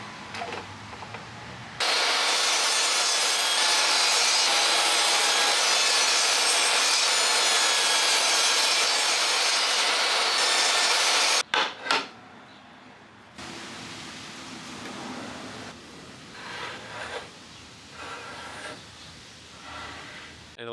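A saw cuts a phone slot in a wooden piece without a dado blade, one long loud hissing cut followed by several shorter, quieter passes with pauses between them.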